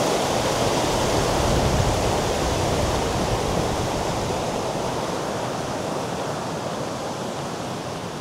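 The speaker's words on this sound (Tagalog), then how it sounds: "naririnig ko yung alon ng tubig. May stream dito." Water from a stream fed by a waterfall near Borgund, Norway rushes steadily, a dense, continuous broadband roar close by that holds even throughout, with no voices.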